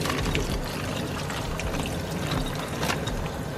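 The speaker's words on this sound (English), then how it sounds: "Let me get some water in here." Water pours steadily from a tap into a container holding a frozen octopus being thawed, a continuous splashing, gurgling fill that sounds close and fairly loud for a few seconds.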